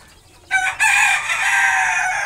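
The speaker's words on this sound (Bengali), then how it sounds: "একটা খুব ছোট মুরগি, জাপানি বেলথাম" A tiny Japanese bantam chicken crows loudly and close by, a single sustained cock-a-doodle-doo breaking out of near silence and holding to the end.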